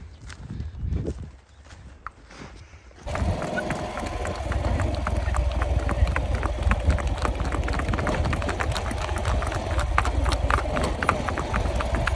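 Horses' hooves clop steadily on a morning ride in a village near a stable, a loud, regular rhythm that starts a few seconds in, with some voices and noise before it.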